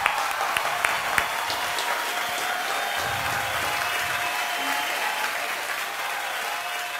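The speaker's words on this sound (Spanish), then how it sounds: "Un fuerte aplauso, por favor." Studio audience applause on a talk-show set, a sustained, even roar of many hands clapping throughout, with a few sharper claps standing out near the start.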